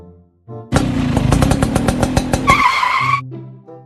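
A motorcycle engine bursts into loud, close revving for about two seconds, with a brief high squeal near the end before cutting off into quiet.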